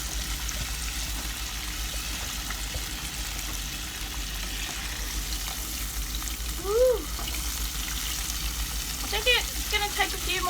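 Food fries quietly in a pan, a faint steady sizzle with a low hum beneath and a couple of brief louder crackles near the end.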